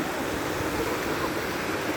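Sea waves at high tide washing onto the shore while shellfish are gathered, a steady, close, rushing surf hiss that never lets up across the whole stretch, with no voices.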